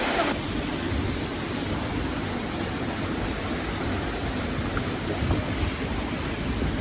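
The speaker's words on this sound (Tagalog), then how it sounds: "sa likod ko merong bato formation falls" Waterfall pouring over a rock formation at Atup Atup Falls, a steady, dense rushing roar of water that stays constant and fairly loud for the whole stretch.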